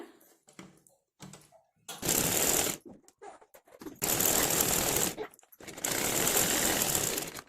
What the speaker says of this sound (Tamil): ஃபஸ்ட் இப்போ நம்ம ஸ்டிச் பண்ணிக்கலாம்.